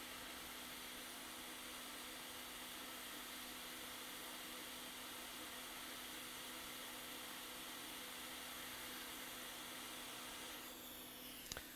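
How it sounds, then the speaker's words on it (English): Hot air station blowing on a capacitor on a MacBook Pro A1502 13-inch logic board during component-level repair, a constant close hiss and whine of airflow with a faint steady tone, no talk. "So let's heat this capacitor up a bit with a hot air station."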